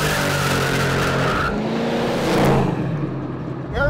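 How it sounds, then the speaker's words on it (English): A small-block Chevy V8 with a hydraulic roller valve train and a Dart single-plane intake manifold roars loudly in a car, a dense, steady rumble that shifts in pitch midway, with no talking. "The engine sounded awesome and ran great in the car."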